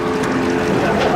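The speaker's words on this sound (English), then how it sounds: "When that boat takes off, we're going to be like the Maid in the Mist." An airboat takes off in the Everglades with a loud, steady engine and propeller roar mixed with wind buffeting the microphone, filling the whole short stretch.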